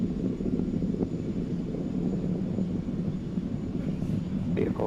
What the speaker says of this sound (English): Falcon 9 has cleared the tower and is now headed upward on its mission to sun-synchronous low Earth orbit